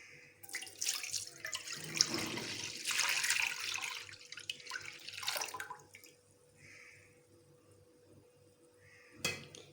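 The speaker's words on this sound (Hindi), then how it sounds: "पैन में दूध डालेंगे" Milk pours into a pan for a shahi tukray dessert, a liquid splashing and gurgling flow that swells and fades over several seconds before a brief final clink, with no talk.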